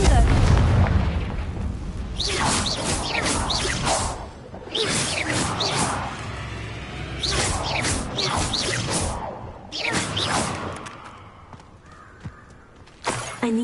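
Confringo fire spell blasts in the Hogwarts Legacy video game, several whooshing fiery explosions in separate bursts, loud and close, with crackling tails between them.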